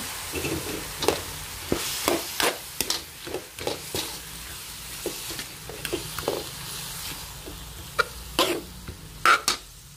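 Meat and tomatoes sizzle in a pan for menudo, with a low steady fry under sharp intermittent clacks and scrapes of stirring, scattered through the clip and moderately close.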